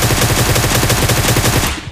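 Rapid automatic gunfire in the PUBG shooter on the Sanhok jungle map, a loud, dense stream of shots in fast regular rhythm for about two seconds before tapering off.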